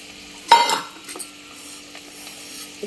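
Fenugreek and mustard seeds drop into hot oil for mango pickle, a sudden brief crackling sizzle that quickly fades, followed by a few faint stirring clinks in a quiet kitchen.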